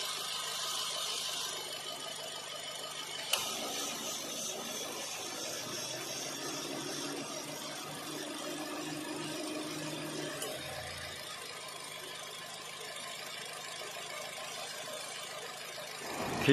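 A Toyota small car's engine idles with the bonnet open, heard up close as a steady, continuous hum with a faint high whine running through it, one sharp click partway in, and no talking.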